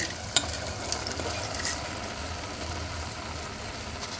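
Flattened rice (poha) tipped into a pan with cooked potato and stirred in a home cooker poha recipe, giving a soft steady scraping and light sizzle with a few small clinks, no talk.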